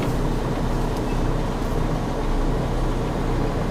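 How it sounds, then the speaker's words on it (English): A semi truck tractor pulls forward with its trailer during a delivery at a cold-storage warehouse in Salinas, California, giving a steady, close engine rumble with wind noise throughout and no talking. "Now we'll pull forward and create some angle here so I can get the tractor to follow it in."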